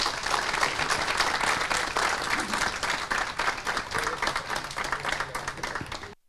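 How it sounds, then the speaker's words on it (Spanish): An audience at a conference on bees applauds a guest speaker, an adviser on agri-food export programs. The clapping is full and sustained, then tapers and cuts off at the end. "Les pido un aplauso para él y comenzamos."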